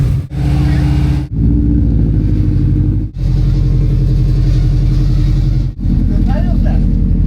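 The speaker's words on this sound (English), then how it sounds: "first drive in his Subaru after engine overhaul" A Subaru engine running on its first drive after an overhaul, a loud, close, continuous rumble that cuts out briefly several times, with a voice talking over it.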